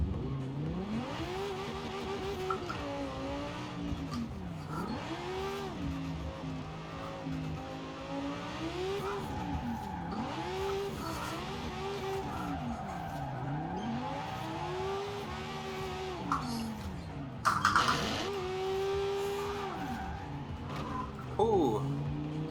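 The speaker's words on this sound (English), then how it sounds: "Hopefully I can slide this car." Italdesign Zerouno, a rear-engine, rear-wheel-drive supercar in Forza Horizon 4, revs and slides with rising and falling engine pitch through the clip and short bursts of tire squeal near the end, while a voice talks over it.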